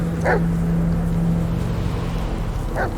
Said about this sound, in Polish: Co to było? Pieseł.